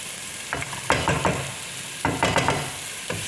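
Food sizzling in a frying pan as it is stirred, with several scraping stirs in irregular bursts over a steady fry, close and clear with no talk.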